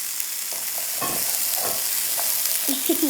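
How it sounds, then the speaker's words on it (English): Sweet potato chunks and chickpeas are stirred in a hot pan, with a constant sizzle of frying under repeated scraping and shuffling strokes from a spoon. No one speaks. "giving everything a really good mix"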